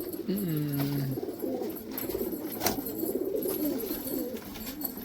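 Close, repeated cooing from a golden pigeon kept by a hobbyist, soft throaty calls rising and falling continuously over a low background hum, with no voices.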